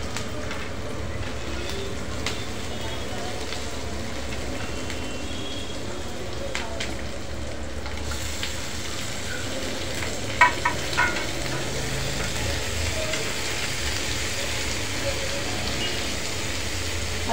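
Colourful red and yellow capsicum fries in a pan for macaroni pasta, a continuous close sizzle with spatula stirring and scraping throughout, plus a couple of brief knocks near the middle.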